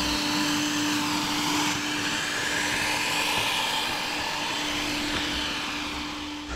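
A Terrific 360 robotic vacuum cleaner runs steadily up close, its motor giving a constant whirring drone with a strong steady hum and hiss that holds throughout without talk.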